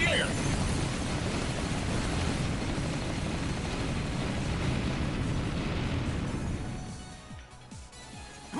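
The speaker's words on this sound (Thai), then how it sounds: "มันจะปล่อยไปแล้วเราต้องกดอีกทีนึง พื่อให้มันระเบิดนะครับ" A rocket weapon detonates in Mighty No. 9 on PS4, a loud sustained roaring blast that fills the scene for several seconds before tapering off, while someone talks over it.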